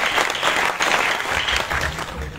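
Audience at a welcome and worship ceremony for a Hindu spiritual leader in Sambhajinagar breaks into steady, dense applause, loud and continuous, with a faint murmur of voices beneath.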